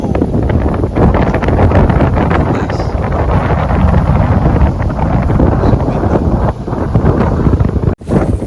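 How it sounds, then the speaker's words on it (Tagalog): Strong wind buffets a fishing boat in Yas Bay, roaring steadily and loudly across the microphone without letup, with faint water noise underneath. "It's so windy today, guys."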